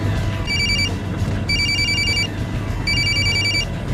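A telephone rings in three repeated bursts of bright electronic trills, loud and clear over a steady low background hum.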